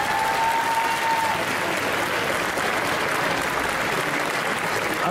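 A crowd at an indoor cosplay contest applauds a contestant, loud dense clapping sustained throughout with a brief faint tone early on.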